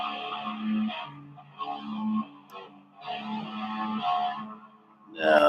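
An electric guitar played live through an echo effect rings out in sustained, distorted phrases whose repeats trail off between notes, with no voices.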